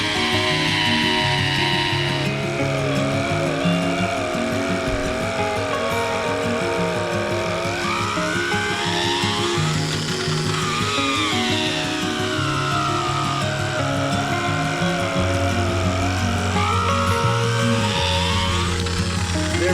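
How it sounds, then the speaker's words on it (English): A power drill bores a hole deep into the middle of a tree stump, its motor whining loud and continuous with shifting pitch as the bit bites and labours through the wood. "we want to bore a hole right down the middle of that guy"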